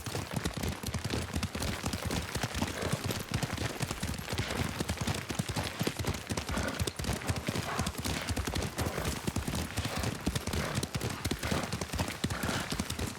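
Rapid, continuous hoofbeats of a galloping horse in the video game Ghost of Tsushima, a steady clattering rhythm that stays close and loud throughout, with faint background sounds.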